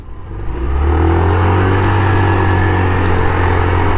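An FKM Hunter 150 motorcycle engine revs under throttle. It is loud and close, with a steady, buzzing, mid-pitched roar that rises in the first second and then holds at high revs.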